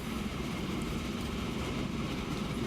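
A train runs in the Transport Fever video game, a loud continuous rumble of rolling wheels and cars with faint rhythmic clacking, steady throughout without talk.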